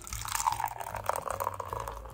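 Kirin Ichiban Shibori beer poured into a plastic cup, a steady close fizzing, splashing stream that foams up over about two seconds, with a brief gurgle midway.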